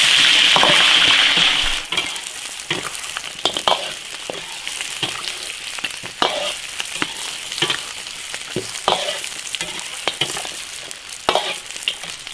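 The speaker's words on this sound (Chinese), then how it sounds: "油热了，把牛角先给它爆炒一下" Beef trotters stir-fried in hot oil in an iron wok, loud steady sizzling broken by repeated scraping stirs and clinks of the spatula, close up with no talk.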